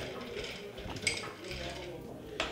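Ice clinks and rattles against a glass as dry vermouth is stirred over it for a martini, with a few bright chinks standing out over quiet, close kitchen ambience.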